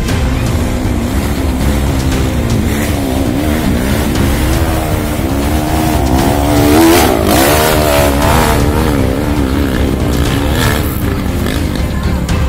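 A KTM motorcycle revs hard while attempting a steep built-up hill climb, its engine droning loud and steady throughout with rising and falling pitch, amid crowd noise and voices.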